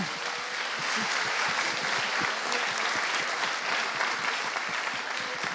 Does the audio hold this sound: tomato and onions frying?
no